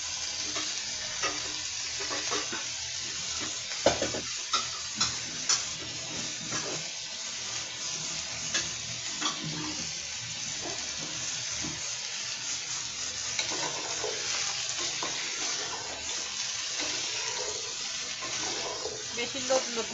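Gathi kochu taro fries in oil with turmeric, giving a continuous crackling sizzle with frequent stirring scrapes that stays close and even for the whole stretch.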